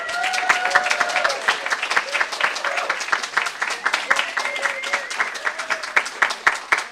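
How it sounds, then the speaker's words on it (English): A conference audience applauds the panelists with steady, loud clapping throughout, and a few voices call out over it. "Let's give our panelists a round of applause."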